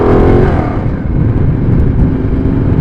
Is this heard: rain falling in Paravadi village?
no